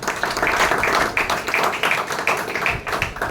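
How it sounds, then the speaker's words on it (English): A Toastmasters audience applauds a speaker, many hands clapping in a dense steady patter that fills the short stretch alone, with no voices over it. "please give a big round of applause"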